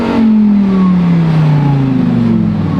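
A supercharged Lamborghini STO engine revs loud and close while warming its tires, the pitch of a sustained roar sliding gradually downward with no voices.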